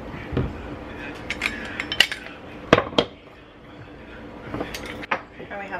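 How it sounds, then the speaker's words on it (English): A utensil stirs a tahini and lemon dressing inside a glass jar, clinking and scraping against the sides in uneven bursts up close, while someone talks. "And I just mix everything directly into this jar."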